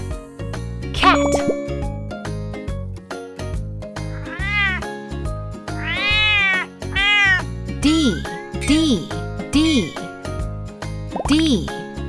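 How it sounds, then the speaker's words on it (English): A cat meows repeatedly, several rising drawn-out calls in an even rhythm, mixed with a narrator's speech, music and plopping drip effects in a children's alphabet lesson. "C is for cat."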